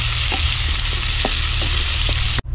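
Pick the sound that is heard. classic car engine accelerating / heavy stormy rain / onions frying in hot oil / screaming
onions frying in hot oil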